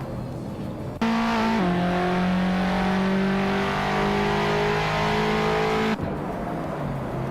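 Race cars in a racing game, including a 1969 AMC Javelin, engines revving hard and holding a loud, steady high-pitched drone that shifts pitch as they accelerate, with no talk.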